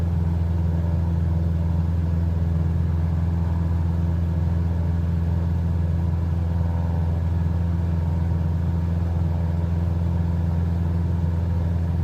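The single-engine Robin DR400-100 Cadet light aircraft hums in Microsoft Flight Simulator, a steady, loud mid-pitched engine drone held constant without pause, no speech.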